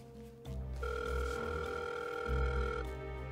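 Telephone ringing tone heard on a call to a district attorney's office, a steady electronic ring that starts abruptly and holds, sounding alone with no talk.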